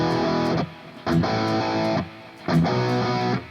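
Distorted electric guitar plays the palm-muted riff, chunky chords in short bursts with tight, damped stops between phrases, loud and close.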